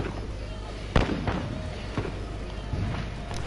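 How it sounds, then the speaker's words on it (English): Cluster strike explosions in Call of Duty Modern Warfare land as a few distant, muffled thumps and cracks over a low rumbling battlefield bed, with one sharper blast standing out early. "Allied cluster strike inbound."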